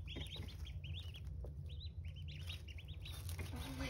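Day-old ducklings peeping repeatedly in quick high chirps, several birds overlapping at close range, fairly faint over a low background hum.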